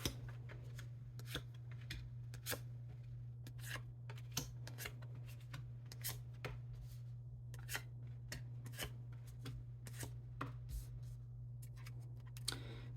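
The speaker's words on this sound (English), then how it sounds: "So let's pull 9 cards." Tarot cards being shuffled and pulled from a deck, a quiet run of quick papery flicks and soft snaps repeating through the whole stretch over a steady low hum.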